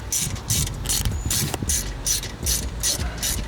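A ratchet loosens the brake caliper bolts on a BMW with rapid, rhythmic clicking bursts, loud and close, repeating several times.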